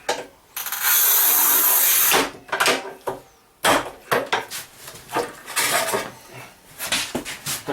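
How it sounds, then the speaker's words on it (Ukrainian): A manual tile cutter scores and snaps an 11 mm matte porcelain stoneware tile: a long bright scraping stroke, then sharp knocks and scraping clatter of the cutter and tile, close and loud, with no talk. "Ріжемо її навпіл, матовий керамограніт"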